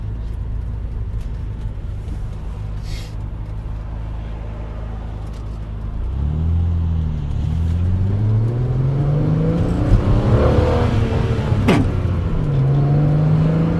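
An Alfa Romeo GTV6 engine idles, then revs up and accelerates through the gears, the pitch rising and dropping with each shift, loud and close.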